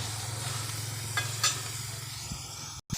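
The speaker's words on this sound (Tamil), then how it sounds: "நல்லா வேகிற நல்லா செவந்து கருணக்கிழங்கு வந்து செவக்கட்டும்" Elephant foot yam pieces fry in a pan with a steady close sizzle and a low hum, with a few light stirring scrapes and a brief break near the end.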